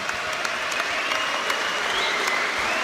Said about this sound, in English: if we can get a nice round of applause for both of these warriors